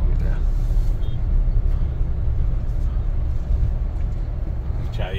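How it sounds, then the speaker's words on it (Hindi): A car drives along a road at night in Patna with a steady, loud engine-and-tyre rumble, and other traffic passes now and then. "वो जो गाड़ी आ गई उनके पीछे पीछे हम लोगों को भी चलना है"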